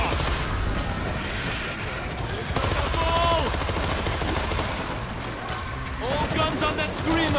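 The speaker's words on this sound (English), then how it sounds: "All guns on that screamer!" Dense, continuous gunfire in the zombie shooter video game World War Z during a fight in Moscow, with rapid overlapping shots and booms and shouted voices over the noise.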